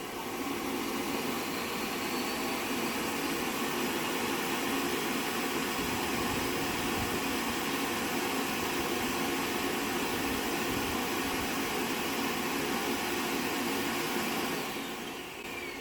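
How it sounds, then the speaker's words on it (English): An Ultenic T10 robot vacuum's self-emptying charging dock runs its suction, a steady loud broadband whoosh and drone held evenly for about fifteen seconds before easing off at the very end, with no talking. "The suction power of the charging dock's self-emptying dustbin technology is really efficient."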